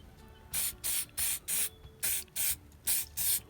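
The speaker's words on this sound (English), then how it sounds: "The first can wasn't working well, so I've got another one. You can see this one sprays a lot better." A rattle can of spray paint laying down a light first coat, eight short, even bursts of hissing spray in a steady rhythm, close and clear with no talking.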